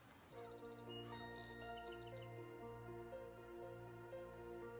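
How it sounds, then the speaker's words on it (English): Bright bird chirps and tweets in a garden, clustered in the first couple of seconds over a steady, humming tonal background that runs throughout. "That's a pretty bird."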